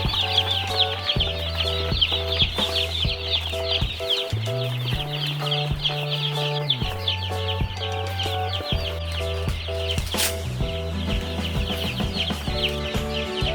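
Young poultry chicks arriving for brooding on a farm, dense continuous high-pitched chirping from many birds close by, with steady background tones throughout and no talking.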